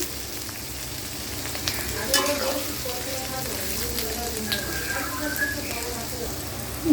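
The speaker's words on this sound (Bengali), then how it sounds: "কেটে নেওয়া পেঁয়াজ কাঁচামরিচ দেখো খুব বেশি রাখবো না হালকা বেরবো সুন্দর মতো ভেজে নিচ্ছি" Chopped onion and green chili frying lightly in a pan, a steady close sizzle with a few clinks and stirring scrapes, no talk.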